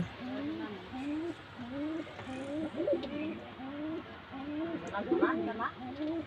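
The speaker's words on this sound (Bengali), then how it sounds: "কবুতরগুলা তাদের বাসায় সুন্দরভাবে ডাকাডাকি করতেছে" Several pigeons coo continuously inside a loft in soft, rolling low calls that overlap one another, with faint background noise and no clear speech.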